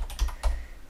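Keystrokes on a computer keyboard while a ring is modeled in 3D software: a few close, crisp taps in a quick uneven burst, heard alone without talk.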